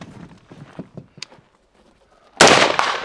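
Two loud, sharp rifle shots from an H&R A2 Government Carbine on a firing range, bursting close together near the end after quieter shuffling and handling noises.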